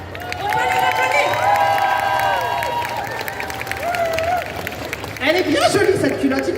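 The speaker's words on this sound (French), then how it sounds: "On va les applaudir." An audience at a Japan Expo Ace Attorney panel claps and cheers loudly and steadily, with whoops and raised voices mixed in, swelling again toward the end.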